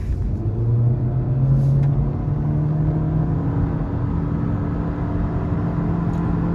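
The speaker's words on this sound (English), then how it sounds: "So if we were to floor it fully down" A 2023 Honda Sport hatchback engine held at full throttle in automatic, a loud steady drone that climbs slightly in pitch and stays strong throughout with no talk over it.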